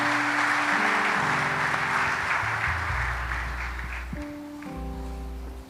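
A church congregation claps together in a steady wash of applause that fades slightly toward the end, with organ or keyboard chords sounding underneath.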